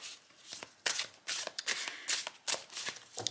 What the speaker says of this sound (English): I will just take this deck and I will give it a shuffle